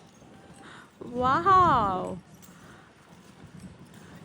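Horse hooves clip-clop as the horse pulls a tram through Adelaide, a light rhythmic clatter in the background while someone briefly exclaims over it.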